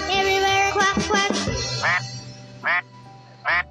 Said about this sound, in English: With a quack quack here and a quack quack there, here a quack, there a quack, everywhere a quack quack.